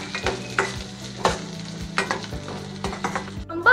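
Chopped onion and chilli sautéing in a pan for chicken Manchurian, a steady close sizzle broken by regular scraping stirs, with no talking.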